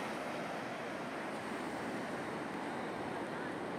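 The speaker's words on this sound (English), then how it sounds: "Solid waves coming through at the back" Continuous, even roar of ocean surf at Huntington Beach, California, with waves breaking in a steady wash and wind buffeting the microphone.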